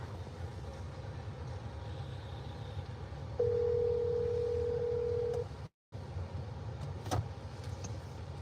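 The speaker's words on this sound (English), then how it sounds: "We're gonna see if we can call Shane here." Phone placing a call on speakerphone inside a car in rainy Los Angeles, a faint sustained ringback tone over low road rumble, briefly cut by a dropout, no talking.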